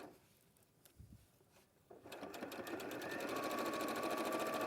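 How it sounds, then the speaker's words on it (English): A sewing machine stitching along fabric with loops: a few soft handling knocks first, then the motor starts and runs in a fast, steady, close-up whirring stitch rhythm to the end. "And then sew all the way to the end and reverse stitch."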